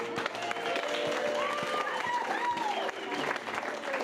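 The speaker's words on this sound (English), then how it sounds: "Give those 3 a round of applause." Audience applause at an improv comedy show, a steady wash of clapping at moderate level with some whistle-like tones and faint voices mixed in.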